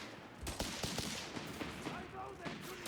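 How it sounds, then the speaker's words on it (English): Rapid bursts of gunfire from Grenadier infantry in the video game Company of Heroes 3, a string of sharp cracks and rattling volleys with a few louder shots, sounding fairly distant under faint commentary. "Grenadier continues to open fire against the infantry section."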